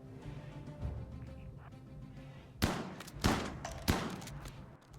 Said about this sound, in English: Their shotguns do, like, pretty low damage